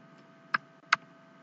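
Two sharp, quiet keystrokes on a computer keyboard land about a third of a second apart against a faint steady room hum.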